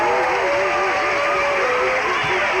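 Crowd at a 1988 high school basketball tournament game, Wesclin vs Flora, roaring and cheering loudly after a play, sustained and dense, with a referee's whistle trilling over the noise.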